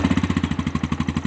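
Engine idling with a rapid, even chugging pulse, close and moderately loud, short and steady with no talk.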